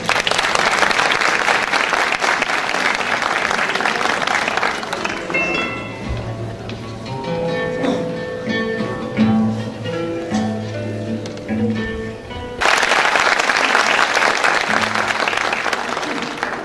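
An audience claps for a singer, with loud sustained applause at the start, then a soft instrumental passage, and applause swelling back up near the end.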